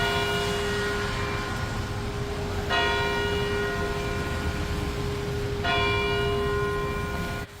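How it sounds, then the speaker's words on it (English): Church bells ring out at Mariners Church in Detroit over a steady background hum, with two bright new strikes standing out partway through; no talking. "The bells ringing out at the Mariners Church in Detroit"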